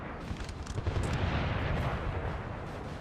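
Artillery fire in the Napoleon Total War video game during a street fight: a dense, continuous low rumble of distant cannon booms rolling on without pause, fairly quiet and with no talk over it.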